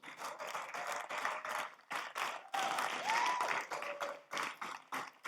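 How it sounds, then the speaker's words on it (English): A round of applause from an online class audience, dense clapping in several rolling bursts with brief gaps, a faint whistle-like tone drifting through midway. "it's a round of applause for me"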